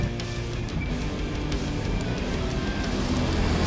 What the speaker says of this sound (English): So that's what I'm riding on now. This little 250.